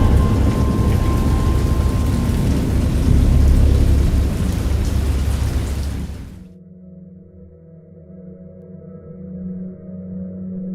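Heavy rain pours steadily with deep rumbling thunder in a video game storm, then cuts off abruptly, leaving a low, quieter ambient hum.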